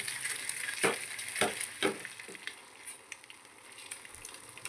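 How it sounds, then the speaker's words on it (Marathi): Boiled eggs with a pinch of turmeric fry golden in oil for Kolhapur-style egg curry, a close sizzle with several distinct spattering bursts as the eggs are turned. "आणि ही छान भाजून घ्यायची आपल्याला अंडी"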